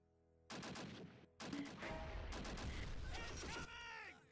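Tank gunfire and bursts of shooting in the wargame Close Combat, loud and dense, in sustained volleys with short gaps, and a faint voice passing underneath.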